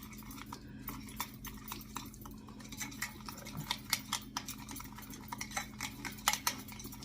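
Butter, orange rind, mixed spice and brown sugar being mixed in a bowl for scone butter, heard as quiet, irregular scraping and tapping of a utensil against the bowl over low room hum, with no talk.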